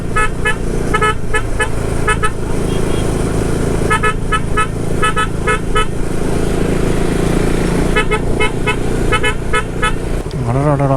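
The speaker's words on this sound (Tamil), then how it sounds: "எவ்வளோ டிராஃபிக்காக இருக்குது" Dense road traffic near the old Kallanai dam, heard from a KTM RC390 motorcycle, with loud steady engine and road noise and repeated car horn toots in short bursts throughout.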